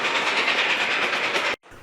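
A 4-8-4 Northern steam locomotive chugs at speed on the Reading, Blue Mountain and Northern line, with loud, steady rapid exhaust beats and rail clatter that cut off abruptly near the end.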